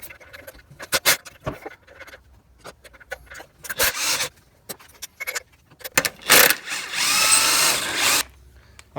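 A power tool, likely an impact driver, backs out four motor mount bolts on a Ford Explorer 3.5 during a water pump job: repeated short bursts and rattling whirs, close and loud, with metallic clinks between runs.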